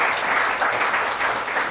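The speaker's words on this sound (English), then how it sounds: "Please give them a round of applause" An audience gives a short, even burst of applause for panelists at a social commerce panel discussion, with many hands clapping close together.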